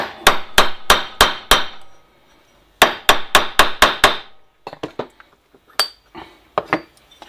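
A hammer taps an oil seal into the crankcase of a Motobécane 88 AV7 moped engine: sharp, ringing metallic knocks come in two quick runs of about six, then a few scattered, lighter taps.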